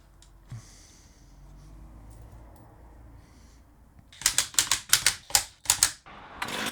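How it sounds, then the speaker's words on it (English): Quick series of about seven sharp rasping pulls on a repaired STIHL chainsaw recoil starter rope, loud and close, in a fast uneven rhythm after a few seconds of near silence. "Looks like that pull starter is back to its old self and is working just fine"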